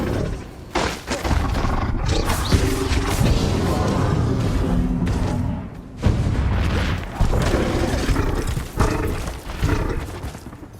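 Bombarda blasting-spell explosions in Hogwarts Legacy, loud booming roars that repeat in heavy bursts with short dips between them and fill the whole stretch.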